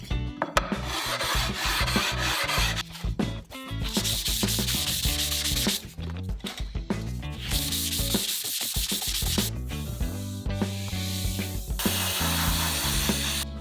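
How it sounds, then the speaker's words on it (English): Fine and super fine Indasa abrasive pads rubbed back and forth across a guitar fretboard, a close, steady scratchy sanding in repeated strokes with brief pauses between passes. "to finish everything up I'll use these Indasa pads, the fine and the super fine"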